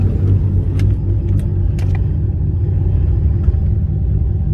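Chevrolet LS V8 running a ghost cam tune, idling steady and smooth once put in gear, a continuous low engine rumble close by with no lope.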